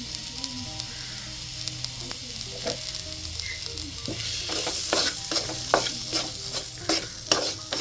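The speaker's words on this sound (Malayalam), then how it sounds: "ഇനി തക്കാളിക്കൊന്ന് വാടണം അതുവരെയും നന്നായിട്ട് ഇളക്കി കൊടുക്കുക" Tomatoes and spices with salt cooking in a pan for a milky mushroom roast, a steady sizzle topped by brisk, regular spatula stirs and scrapes that grow louder and more frequent midway.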